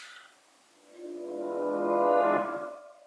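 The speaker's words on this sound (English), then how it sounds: "there are two reverse chords. So one from the piano and one from the guitar." Reversed piano and guitar chords sound together, rising in a smooth backward swell after a short quiet gap, peaking near the end and then cutting off sharply.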